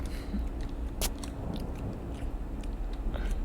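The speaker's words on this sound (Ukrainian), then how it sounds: "Що воно, сука, чавкає?" Wet chomping and chewing from an evil toy in a horror video game, a steady mastication sound with a few sharp crunchy bites, close and fairly loud throughout.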